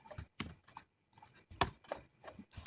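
Keys clatter in short irregular bursts on a computer keyboard, with a firmer single keystroke like an enter press, close and moderately quiet with gaps of silence between clusters.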